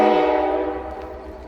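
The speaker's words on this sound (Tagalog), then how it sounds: "Oh my world. A train." A train near a suspension bridge in Denali National Park, Alaska, gives one loud, close, tonal horn blast that quickly fades over about a second and a half.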